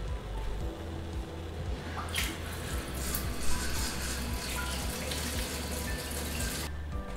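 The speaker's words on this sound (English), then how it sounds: "We want to pour hot water over the outside of the jar from the tap" Hot water runs steadily from a kitchen tap over the outside of a glass jar, a continuous splashing rush with a few brief clinks and shifts in the flow, close and alone.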